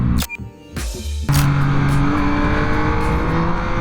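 A 2024 Yamaha MT-09 motorcycle engine roars close by, with a few sharp revs and short gaps before it settles into a loud, sustained pull under acceleration.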